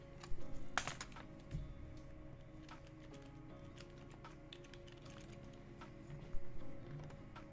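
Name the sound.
typing on a computer keyboard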